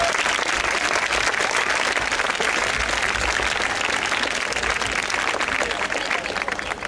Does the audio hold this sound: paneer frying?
no